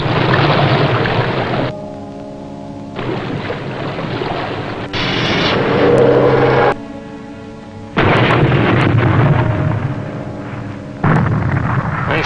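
Torpedo explosions striking ships in a submarine war film: deep booming blasts with rumbling water and sea noise, coming in several loud, sustained bursts separated by quieter gaps.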